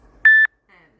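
A phone in a home kitchen gives a single short, clear notification tone against near silence.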